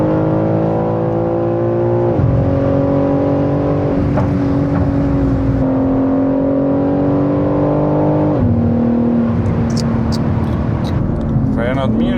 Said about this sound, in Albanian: Kjo të bo me i dhonë gaz gjithë kohës me bo downshift.